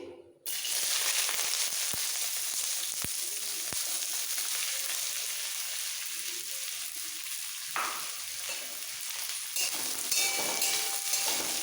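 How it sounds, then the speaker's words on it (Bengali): Chopped onion sizzles in hot oil with black cumin seeds, a steady broadband frying hiss lasting throughout with occasional stirring clicks, close and fairly loud, no talking. "এবার এই পেঁয়াজটা তেলের সাথে মিক্স করে লাইট ব্রাউন হওয়া পর্যন্ত ভেজে নিতে হবে"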